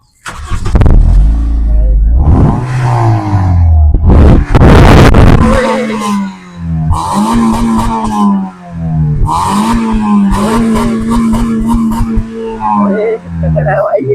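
A 2010 Honda Civic 1.8S with an inline-4 engine is revved loudly and close up, its note rising and falling through several sharp sweeps after a rough opening burst.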